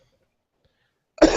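A person coughs once, a sudden close burst that cuts in after more than a second of near silence and carries on to the end.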